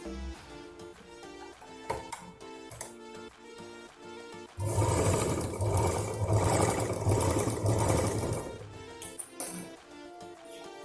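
A sewing machine stitches rolled cloth into a small rope for a purse, whirring loudly and continuously through the second half after quieter rhythmic tapping and handling.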